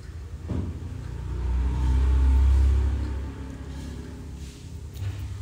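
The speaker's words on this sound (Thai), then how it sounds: "เสียงดังหน่อยเพราะว่าอยู่ที่บ้านได้ยินเสียงปั๊มน้ำไหม" A household water pump runs indoors at home with a low, steady motor rumble that swells to a louder hum midway, then eases back down, with faint background noise around it.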